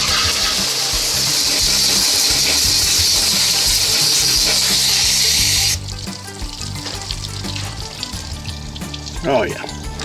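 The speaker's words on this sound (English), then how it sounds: "I'm gonna get out here with the garden hose. We're gonna rinse all this out real good" A garden hose rinses dirt and grit out of an outboard engine housing, a loud hissing spray that runs steadily then drops to softer splashing and trickling water.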